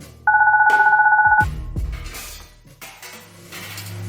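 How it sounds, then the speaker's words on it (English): A loud electronic phone ring in the video game Goodbye Deponia trills steadily for about a second, then stops, followed by clattering thuds and scattered background noise. "Oh, my baby phone's ringing."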